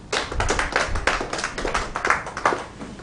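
A live African Empire reality TV show audience gives a round of applause for a tribute to Fela, with many hands clapping in a dense, uneven burst for about three seconds and no voices.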